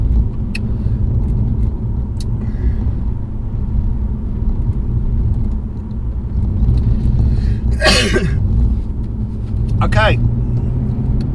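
A BMW 330ci Clubsport engine drones low and steady from inside the cabin while driving on empty rural English roads, with a couple of sharp sneezes and brief talk over the rumble.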